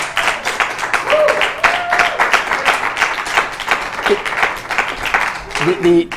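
An audience at a charity giving event claps in a rhythmic burst of hands, fairly close and loud, with voices talking over and between the claps.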